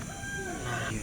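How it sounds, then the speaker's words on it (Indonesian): A chicken calls briefly, a short rooster-like cry over steady background noise, fairly close. "Nah, ada ayam nih."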